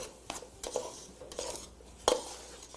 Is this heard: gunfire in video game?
no